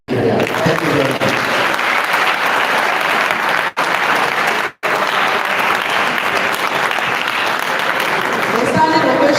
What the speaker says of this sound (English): A standing ovation, a loud applause for him